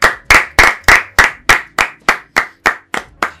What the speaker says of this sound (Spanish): Un aplauso para ello.